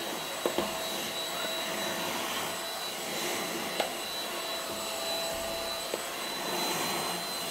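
An Agaro Regal Lite Plus vacuum cleaner runs continuously at a loud, steady whine, close up, with a couple of brief clicks and bumps against the surface.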